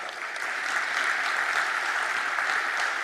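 An audience at a speaker's address breaks into continuous clapping, an even, moderately loud patter of many hands that holds steady throughout without any voices.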